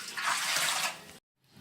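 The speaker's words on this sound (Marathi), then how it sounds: "तर मी ह्याच टोपाने पाणी घेणार आहे।" Water is poured from a cooking pot into a vessel for making sabudana potato papad, a short close splashing pour lasting under a second, then silence and a faint trailing trickle.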